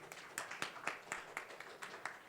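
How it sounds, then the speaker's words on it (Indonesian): Sparse, fairly faint claps at a website launch event, a handful of distinct hand claps at an uneven pace rather than full applause, heard alone. "tepuk tangan Bapak Ibu semuanya"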